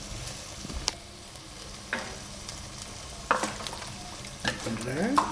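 Mutton masala with potatoes, green chilies and curry leaves fries in a pan, a soft steady sizzle broken by a few sharp scrapes and clinks of a spoon against the metal, heard close.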